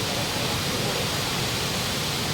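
Waterfall at a Red Lahu village, a dense steady roar of falling water that fills the whole clip at loud volume with no break, no pauses and no voices.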